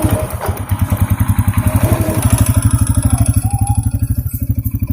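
A Honda Supra X 125 FI motorcycle engine idles close by, a steady, fast low putter that runs evenly throughout the clip.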